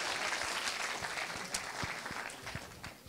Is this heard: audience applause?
yes